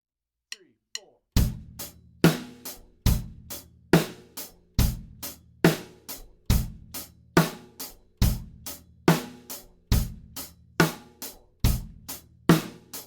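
Faster quarter-note drum beat on a kit, steady hi-hat on each beat with bass drum and snare alternating, after two quick stick clicks; even, punchy hits repeating briskly throughout, with no voices.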